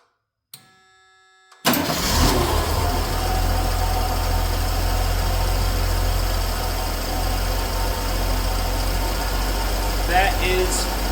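A 1979 Ford F250 pickup engine cranks and catches after a short click, then settles into a steady, loud idle that continues to the end.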